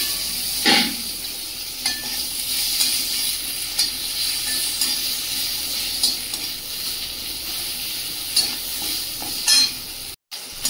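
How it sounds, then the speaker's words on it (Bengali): Five-spice seeds, bay leaf and chopped onion fry in oil in a pan after fish, a steady loud sizzle and hiss with occasional stirring scrapes throughout. "মশলাটা ভালো করে ভেজে নিয়েছি"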